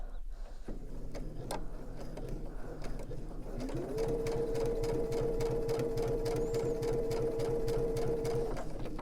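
A sewing machine with a piping foot stitches piping while joining two fabric pieces, a steady close mechanical whirr running continuously for several seconds after a quieter start.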